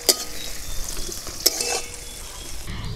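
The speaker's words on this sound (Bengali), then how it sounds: "এবার আমি দিয়ে দিচ্ছি পেঁয়াজ কুচি। পেঁয়াজগুলো একটু করে একটু ভেজে নিই।" Chopped onions fry in a pan for bhindi do pyaza, with a steady sizzle broken by a couple of sharp clinks and scraping stirs. No one speaks.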